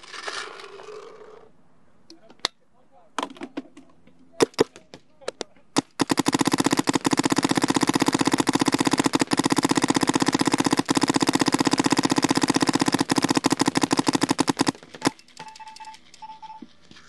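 A DLX Luxe TM40 paintball marker fires in ramping mode: a few separate shots, then a long, loud, rapid continuous stream of shots lasting several seconds, with a voice briefly heard at the start.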